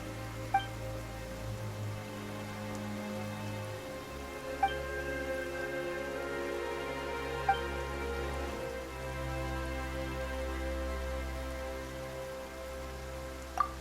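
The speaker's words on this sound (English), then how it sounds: "Why is it raining all of a sudden?" Sudden rain falls in the video game Genshin Impact, a steady patter of drops on surfaces over a low sustained musical drone, with a few faint sharp ticks scattered throughout.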